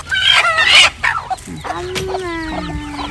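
Chickens cluck loudly up close, a burst of squawking followed by a longer drawn-out call and softer clucks.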